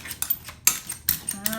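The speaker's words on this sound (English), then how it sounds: "So now I'm going to mash them in with the egg." Sweet potatoes and egg mashed together in a bowl for 1940s-style sweet potato cornbread: a few close, irregular clinks and scrapes of utensil against the dish, with short pauses between strokes.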